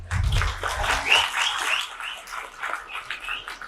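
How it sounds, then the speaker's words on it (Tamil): A seated audience at a motivational speech bursts into steady applause, many hands clapping in a continuous patter that rises and then eases, heard at a moderate distance. "இந்த அவை தான் உடனே கைத்தட்டுது."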